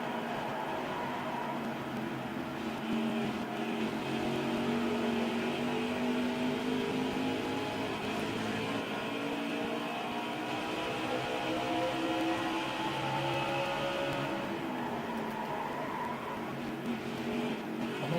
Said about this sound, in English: Most drivers we've seen a lap down today, as well as the 17th place car, Ross Chastain.